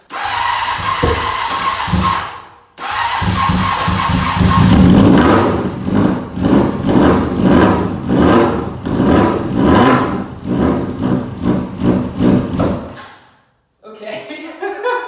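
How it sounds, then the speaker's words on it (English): A Honda Hornet motorcycle on a beginner bike build, low on fuel, cranks and catches, then its engine revs in repeated rising bursts and struggles to idle, loud and close, with a brief pause near the end. "so it's having trouble idling, but it started"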